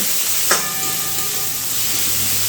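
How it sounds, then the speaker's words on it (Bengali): Grated garlic and ginger paste fry with onions in a pan for a prawn and red lentil dish, giving a steady, close sizzling hiss throughout, broken by one brief clink. "এবারে পেঁয়াজের সঙ্গে আদা রসুনটা একটু ভালো করে ভেজে নিতে হবে"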